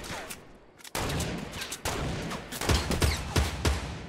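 Rapid gunfire from the Fortnite video game sounds in dense bursts, sharp repeated shots crowding together and growing louder and busier toward the end, with no talking over it.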